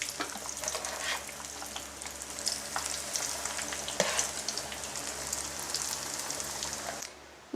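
Hake fillets fry in oil for parmigiana, giving a constant close crackling sizzle with scattered pops, until the sound cuts off abruptly near the end.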